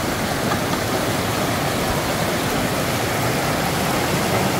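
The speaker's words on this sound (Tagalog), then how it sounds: "Ang ganda ng agos." A river's current in Canada, on a road trip from Winnipeg to Ontario, rushes as a loud, steady broadband roar with no breaks, close by and continuous.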